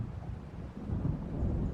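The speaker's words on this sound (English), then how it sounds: "It seems there's a storm coming." Deep rolling thunder from an approaching storm in the video game Alan Wake, a low continuous rumble that swells slightly over a couple of seconds.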